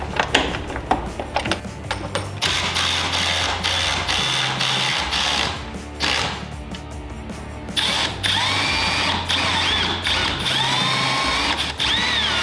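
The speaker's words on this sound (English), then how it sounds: "we can start drilling our holes up and putting our bolts and spacers in" A power drill bores holes while fitting fender flares on a Honda Talon 1000X-4 side-by-side, with bursts of whining drilling and ratcheting between brief pauses, close and loud.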